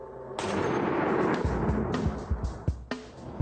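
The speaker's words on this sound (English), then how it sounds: "Today, I'm firing this high-powered sniper rifle to see the damage it can deliver" A high-powered sniper rifle fires with a sudden loud, broad blast that hangs in a long rumbling roar, followed by several sharper thumps and cracks near the end.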